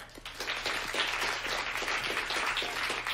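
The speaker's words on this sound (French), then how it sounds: "Très chers amis, merci d'applaudir Monsieur William Kreb" Audience in a hall applauds a guest being welcomed, a soft, steady patter of many hands clapping, somewhat distant and continuous throughout.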